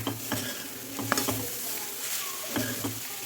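Fresh grated coconut fries in ghee over a medium flame, a steady close sizzle broken by repeated scraping strokes of a spoon stirring the pan, with no talking.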